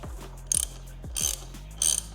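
A ratchet wrench loosening the top cap on a motorcycle front fork, three short bursts of metallic clicking a little over half a second apart, close and crisp in a quiet workshop with no talking.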